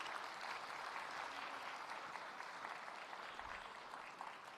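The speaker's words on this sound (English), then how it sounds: "Let's give her a final round of applause" Continuous audience applause at an awards ceremony honoring a winner, a steady dense crackle of many hands clapping at an even level throughout, with no voices standing out.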